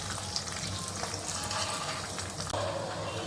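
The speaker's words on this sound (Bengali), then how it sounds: "এই হচ্ছে আমাদের ভাজি হচ্ছে, ফ্রাই হচ্ছে" Prawn fritters (chingri macher bora) deep-frying in hot oil, a steady dense sizzle and crackle filling the whole stretch, close and fairly loud, with a small clink partway through and no voices.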